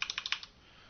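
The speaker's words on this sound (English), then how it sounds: "You can type this in." Six or seven quick, crisp keystrokes tapped on a computer keyboard while entering numbers, close and fairly quiet, followed by near silence.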